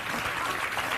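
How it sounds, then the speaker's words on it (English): Audience applause breaking out at a talk show about Danity Kane and Diddy, a dense, steady wash of clapping that fills the whole short moment. "Give her a round of applause."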